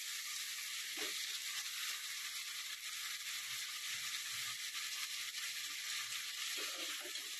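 Hot tempering of spices and turmeric sizzles steadily in a pan, a loud, continuous close-up hiss with occasional soft stirring knocks, no talking.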